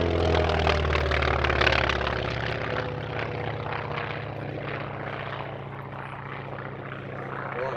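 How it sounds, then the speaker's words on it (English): A Grumman Wildcat propeller fighter passes during an airshow flying display, its radial engine droning loud and rough before easing gradually as the aircraft moves away. "Now in from the left, Stu Goldspink finishing his routine in the Grumman Wildcat."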